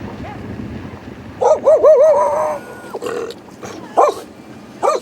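The owner's dog barks and yips close by in short excited bursts, including a drawn-out whining yowl, over a low steady rumble of road noise.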